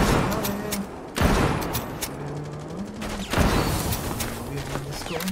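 Gunfire in the video game Rainbow Six Siege, with bursts of rapid shots and sharp blasts in two loud clusters, heard over game sounds and a voice talking.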